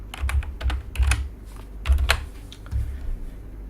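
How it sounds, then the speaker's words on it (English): A computer keyboard clatters close by as a short message is entered, producing clusters of rapid, fairly loud keystrokes broken by brief gaps. "Just type some message."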